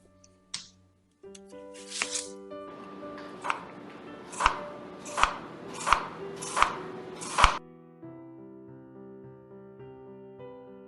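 A knife chops through an onion on a cutting board while a cook prepares a holiday meal, with a few scattered cuts followed by five evenly spaced, sharp chops, close and distinct, then quiet.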